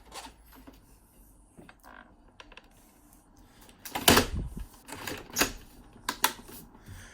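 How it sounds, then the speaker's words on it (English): Dyson HP01 Pure Hot + Cool air purifier filter being pushed onto the base and clicking into place: a sharp plastic snap followed by a few smaller clicks and rattles, close and fairly loud after a quiet stretch. "And then you click it in until it firmly clicks into place."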